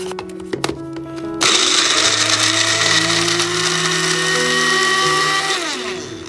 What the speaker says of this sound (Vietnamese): Còn không thì có thể cho vào máy xay thịt hoặc là máy xay hạt như mình.